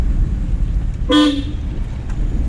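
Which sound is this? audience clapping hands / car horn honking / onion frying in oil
car horn honking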